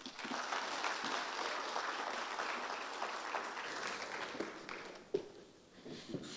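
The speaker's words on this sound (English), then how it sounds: "A huge round of applause" A round of applause from the audience at an Agrément South Africa stakeholder engagement forum, fairly quiet and steady clapping that carries on for several seconds, with a single sharper clap near the end.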